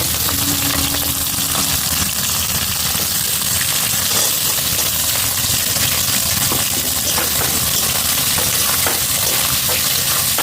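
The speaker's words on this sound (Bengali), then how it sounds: "পেঁয়াজ কুচি দিচ্ছি পেঁয়াজটা ভেজে নেব" Chopped onions fry in hot oil with whole cumin for a mutton curry, a steady broadband sizzle running close and loud throughout with faint scraping and clinks from stirring.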